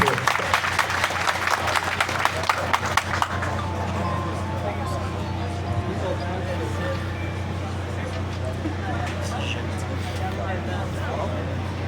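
An audience in Miragoâne, Haiti claps for a new magistrate, a few seconds of crisp applause that fades into a steady hum of crowd murmur and talk.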